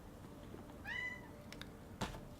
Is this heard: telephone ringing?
no